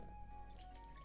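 Rinse water drains and drips from washed rice into a sink, a faint, close trickle with soft splashes.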